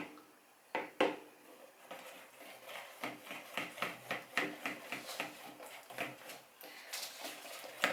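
A spoon stirs red slime in a bowl quickly, scraping and clinking against the sides in a fast, fairly even rhythm. The sound is soft and close, with no talk.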